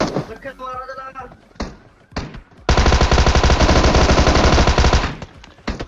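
Tommy gun and rifle fire in the mobile battle royale game PUBG Mobile, a sustained rapid burst of automatic shots after a few scattered single shots, loud and close, with someone talking briefly beforehand.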